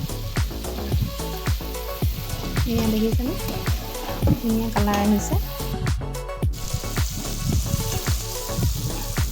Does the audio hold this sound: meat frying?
yes